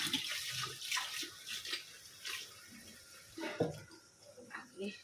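Items are scrubbed with soap and water, with splashing, rubbing and the clink of wet things in a basin, fairly quiet, with faint voices in the background.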